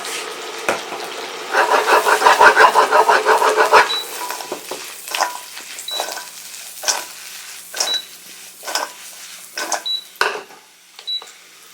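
Vegetables and shrimp for a keto stir fry cook over medium-high heat in a pan. A loud sizzle swells at first, then settles into a quieter crackle broken by sharp utensil taps and clinks.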